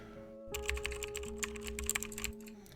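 A typing sound effect from a sound library: a fast run of crisp computer keyboard clicks and key taps over a steady low hum, starting after a short quiet lead-in and stopping just before the end.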